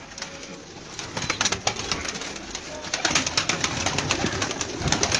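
Captive pigeons coo in a low, continuous chorus close by, layered with rustling and wing flutters, while someone talks quietly in the background.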